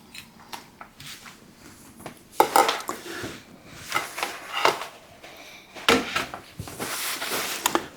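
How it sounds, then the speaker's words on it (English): Kitchen knife slicing a small potato in half on a cutting board, heard as a few sharp clicks and knocks of the blade against the board amid light clattering of dishes and utensils. "the sliced potato, I'm going to cut it in half"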